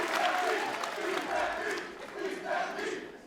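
A wrestling crowd roars and cheers through a match between Aussie Open and Team Filthy, a dense, continuous swell of voices with rising and falling waves of noise.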